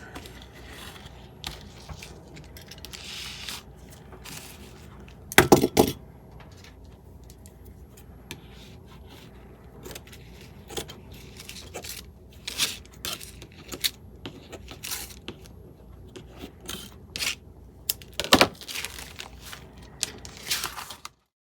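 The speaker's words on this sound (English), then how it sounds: "I'm gonna have to cut the cheesecloth with scissors, the unglued cheesecloth." Scissors cut through unglued cheesecloth, making scattered soft snips and small clicks, close and quiet, with no talk.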